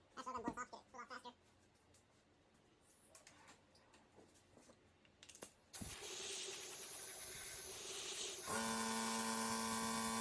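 Compressed air blown hard across a hot aluminum truck intake manifold, a steady loud hiss that starts abruptly after a few quiet workshop knocks and then grows stronger and tonal toward the end.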